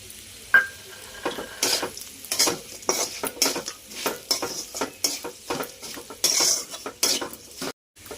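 Ivy gourd fry stirred in a pan right after grated coconut is added, with close, rhythmic scraping and clinking of a spatula against the pan over a light sizzle, no talk.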